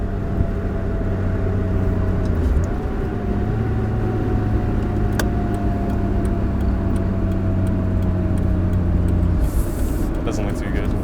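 Mazda Miata fitted with a Honda V6 engine pulling in fifth gear around a corner, a steady droning engine hum with road noise and a faint whine, heard from inside the car.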